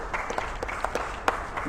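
An audience applauds at a public discussion of Houston's I-45 highway project, giving a short run of scattered, fairly close handclaps over a steady background murmur.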